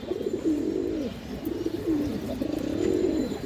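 Close by, a male Jabra Khora-gola pigeon coos steadily in three or four repeated low, rolling phrases, with no voices over it.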